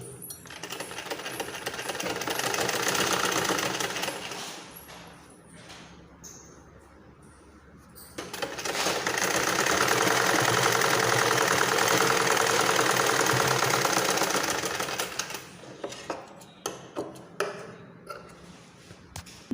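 A sewing machine stitches a blouse in two long, steady runs of rapid mechanical whirring and ticking close by, separated by a quieter pause and followed by a few short bursts of stitching.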